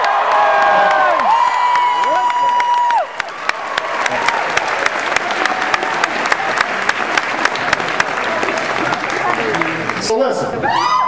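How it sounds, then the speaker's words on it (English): A large audience at a George Mason University event with Barack Obama bursts into loud, sustained applause mixed with cheering and whoops, close and dense throughout and continuing as the crowd noise rises again at the end. "Give them a huge round of applause"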